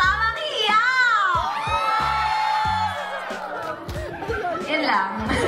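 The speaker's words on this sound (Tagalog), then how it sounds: "Palakpakan naman dyan!" An audience at a movie block screening shouts, whoops and cheers in a loud, continuous burst, with excited voices layered over one another and near.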